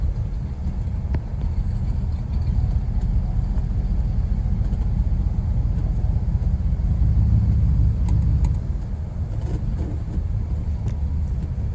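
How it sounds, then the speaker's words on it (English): A 1978 Ford Ranchero Brougham idles steadily, a continuous low rumble that stays close and even throughout with no talk over it. "It always fires right up on cold start, holds a nice idle."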